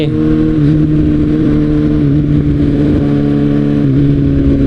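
A Kawasaki Ninja ZX-6R sport motorcycle rides at a steady cruise. The engine holds a loud, even drone with a slight pitch dip near the start and again toward the end, and no voices are heard.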